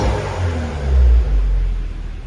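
A 2010 Mini John Cooper Works with its middle silencer deleted idles close by, a deep throaty exhaust burble that swells briefly and settles, steady and loud with no voices.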